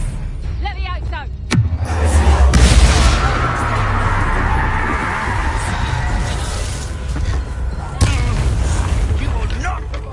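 Incendio fire spell cast in the video game Hogwarts Legacy, a whooshing burst that swells into a sustained roaring, crackling blaze, with a sharp impact near the end. A voice speaks over the start.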